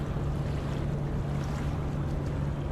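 A ship's port engine runs at low reverse power in the Ship Simulator video game, a steady low rumble blended with water wash and wind, continuous and moderately loud with no talking.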